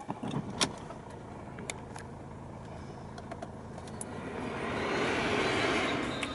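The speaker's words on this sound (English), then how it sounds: "Start the car up." A car in a Warwickshire country setting starts up, with a brief crank and clicks followed by a steady idle that swells slightly louder toward the end, heard up close with no talk.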